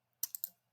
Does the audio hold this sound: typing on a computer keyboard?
yes